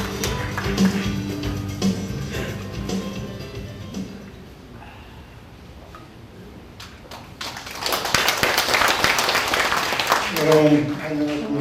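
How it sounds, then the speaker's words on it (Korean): Audience applause at a book launch ceremony as a professor is welcomed to the stage, clapping sustained over the first seconds, fading, then swelling again loudly near the end with a voice entering at the close. "큰 박수로 맞이해 주시기 바랍니다"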